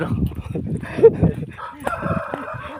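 A rooster crows once at medium distance, a drawn-out rising and falling call, partly overlapping nearby low chatter and background noise.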